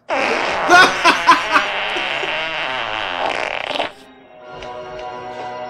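A long, loud, wet fart sound effect with sputtering bursts, followed by a quieter trailing tail after a sudden drop.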